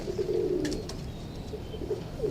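Green pigeons, a breeding pair kept by fanciers, coo softly in a low warbling call near the start, then repeat fainter coos toward the end over a quiet background.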